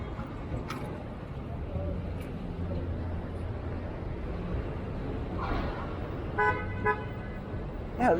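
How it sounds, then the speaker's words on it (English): Car horns toot twice in quick succession late in the clip over a steady hum of city traffic during a midnight scooter ride through Center City, Philadelphia. "what are you beeping for?"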